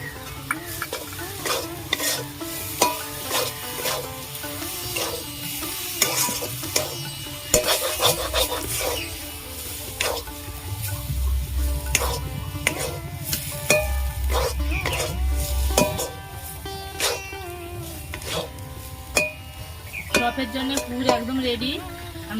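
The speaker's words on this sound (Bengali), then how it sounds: "আলু ভালো করে কষিয়ে নিয়েছি ধনে পাতা কুচি দিয়ে দেবো" Potato filling for katla fish chops is stirred and cooked in a pan, with continuous scraping and rubbing strokes over a steady sizzle and occasional louder utensil knocks.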